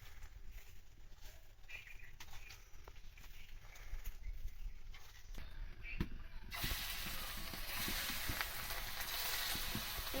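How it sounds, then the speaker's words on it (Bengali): Sunflower oil sizzles steadily in a hot wok, starting quieter and then jumping to a loud, dense hiss partway through that continues to the end, with no voices. "কড়াই গরম হয়ে গেছে তেলটা দিয়ে দিলাম"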